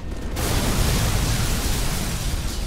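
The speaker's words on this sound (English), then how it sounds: "Explosions!" Loud, sustained roaring blast with heavy low rumble, starting abruptly after a brief quiet moment and continuing without pause, like game explosions, in the video game Halo: Reach.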